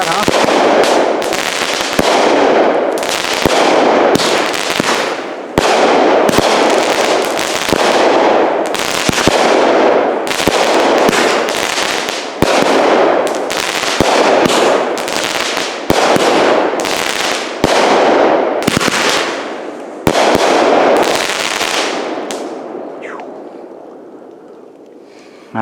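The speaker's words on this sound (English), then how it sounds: "That's a nice one. It's loud." Platinum Excalibur fireworks bursting in a rapid, loud series of sharp explosive cracks over about twenty seconds, each blast trailing into crackle, then fading to quiet at the end; faint voices occasionally underneath.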